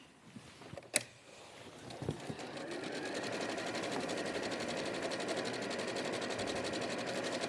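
A sewing machine starts after a couple of sharp clicks and then runs in a steady, fast, even stitching whir through heavier-weight fabric, close and continuous.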